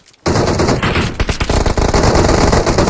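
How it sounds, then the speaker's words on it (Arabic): Dense, loud automatic gunfire in a shooter video game, rapid continuous bursts of shots that fill the whole stretch and sound up close. "يا اخي طلقات كثيرة"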